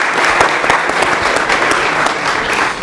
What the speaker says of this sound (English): Round of applause for Wayne.